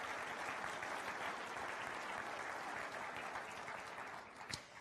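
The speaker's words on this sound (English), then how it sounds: "Would you join me in just a nice round of applause for all those folks?" Sustained audience applause fills a hall during the 2015 Dutchess County State of the County address in New York, a steady dense clapping that holds evenly throughout and eases slightly near the end.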